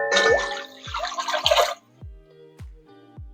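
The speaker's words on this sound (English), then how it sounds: "Add some water to make sure we cover the pasta." Water pours into a pot of pasta for a pepperoni pasta bake, a close splashing gush that stops after about a second and a half, followed by a few separate drips and light metallic clinks.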